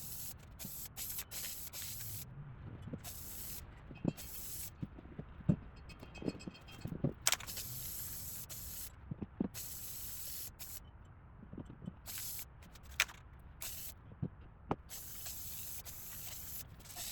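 Spray paint hisses onto a thrift store chandelier in bursts of varying length, soft airy sprays separated by quiet gaps and small handling clicks.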